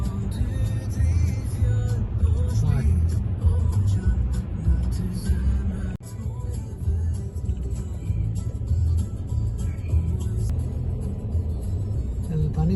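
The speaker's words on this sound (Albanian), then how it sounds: "po bëjmë një gjysore që kemi ngecën trafik" Road traffic heard from inside a car stuck in a jam, a steady low engine rumble and road noise filling the whole stretch, with occasional nearby vehicle sounds.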